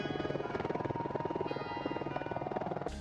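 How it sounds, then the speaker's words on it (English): An AH-64D Apache Longbow helicopter with rotor blade tips spinning near the sound barrier, producing a steady, rapid rhythmic chopping buzz that holds loud and close throughout. "the classic helicopter sound that you hear in all the movies"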